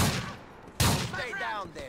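A shotgun fires in GTA 4, one sharp loud blast that cracks out of ongoing game noise and rings off, heard alone without talk.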